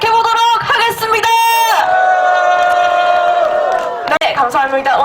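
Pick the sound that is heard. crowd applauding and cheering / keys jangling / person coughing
crowd applauding and cheering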